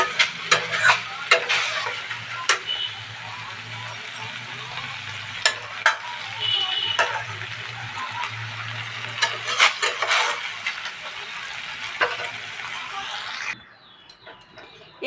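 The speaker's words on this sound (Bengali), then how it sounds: "এই দেখো আমি করলা আলুর চচ্চড়িটা এই পাত্রে ঢেলে নিয়েছি" Bitter gourd and potato curry being scooped from a pan into a bowl, a series of scraping, clinking spoon strokes with a soft sizzle underneath, ending in near quiet.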